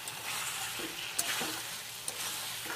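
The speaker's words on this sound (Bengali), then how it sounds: "এবার হচ্ছে আলুটা দিয়ে চিকেনটা কষাবো, যত কষবে তত ভালো হবে" Chicken sautéed in a pan with fried potatoes, a steady low sizzle broken by a few spatula scrapes and two sharp clinks against the pan, quiet and close.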